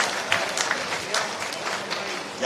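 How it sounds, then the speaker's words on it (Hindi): Enthusiastic crowd applause at a BJP victory celebration at the state party office in Bhopal, a dense, steady burst of clapping close by, filling the whole moment without talk. "जोरदार तालियां दिल खोलकर"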